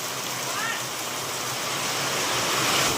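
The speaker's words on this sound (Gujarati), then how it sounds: "પતરા ગાજે જો" Heavy rain drums steadily on a tin-sheet roof, a loud continuous roar that swells slightly toward the end.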